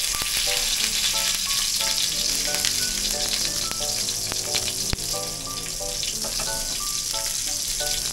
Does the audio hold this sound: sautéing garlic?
yes